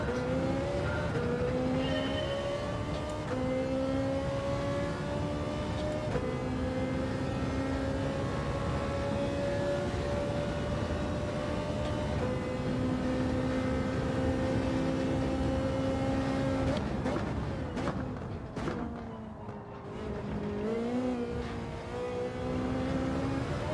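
A Ferrari engine in Gran Turismo 7 holds a steady, fairly quiet mid-revving drone with shifting harmonic pitch through corners, rising and falling slightly, with a brief throttle lift and whine near the end.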